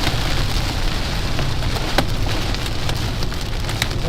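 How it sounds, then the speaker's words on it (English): Small pea- to dime-size hail pelting a storm chasers' vehicle during a tornado-warned storm in Illinois, a dense steady roar of impacts with sharper individual cracks scattered throughout. "Get some small hail now. Pea-size to dime size at max."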